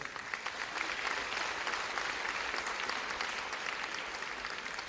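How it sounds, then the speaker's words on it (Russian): Steady applause from a concert audience fills the room, dense and continuous, with no voices. "Спасибо, эти аплодисменты для вас."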